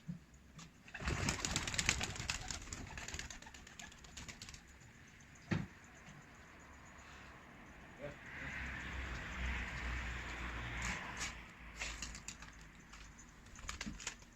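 Tumbler pigeons coo softly near their loft, a low murmuring under louder tapping and rustling, while people talk nearby.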